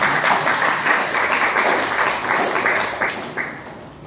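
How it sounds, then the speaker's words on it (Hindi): Applause from a gathered audience at a talk, a steady wash of clapping for about four seconds that thins slightly toward the end. "तो जोरदार तालियां होनी चाहिए चौहान सर"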